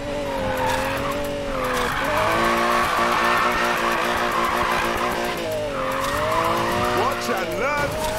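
A Lamborghini drifts in the video game Need for Speed Payback, its tires squealing loudly and continuously while the engine note rises and falls over the slide.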